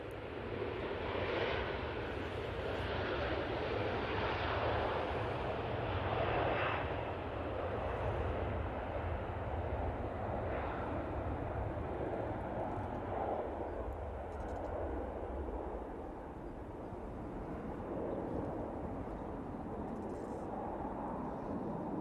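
Virgin Atlantic Airbus A330 at Manchester Airport, a steady broadband roar of jet engines heard at a distance, holding fairly even throughout with a slight dip late on, no voices present.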